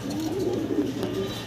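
A pair of silver Sirazi pigeons coo softly and close by, low throaty murmurs rising and falling in a gentle run over a quiet room.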